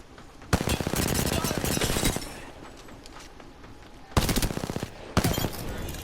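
Bursts of rapid automatic gunfire ring out in the Apex Legends video game. One long volley runs about a second and a half, and two shorter bursts follow after a pause. The shots are loud, close and sharp.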